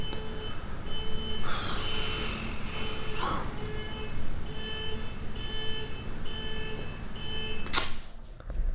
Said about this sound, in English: How am I supposed to record if there's a freaking alarm to some car